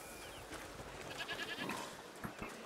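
Several goats bleat in a video game (A Plague Tale: Requiem) over a busy, noisy backdrop, their calls rising and falling at moderate distance without any talking.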